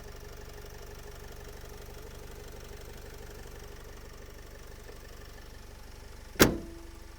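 A 2013 Opel Vivaro van's 2.0 Euro 5 diesel engine idles steadily with an even, low clattering rhythm, then a sharp click or clunk sounds near the end.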